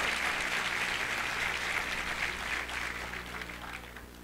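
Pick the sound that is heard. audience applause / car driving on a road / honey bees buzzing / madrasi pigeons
audience applause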